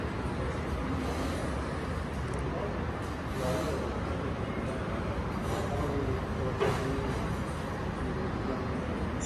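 A metro train in a Korean subway station rumbles steadily as it comes in, a continuous loud low roar with faint wheel and brake squeals, and people talking under it.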